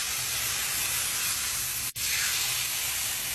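Cooking oil spray hisses onto raw chicken in a pan in two steady bursts, split by a brief pause near the middle, close and fairly soft.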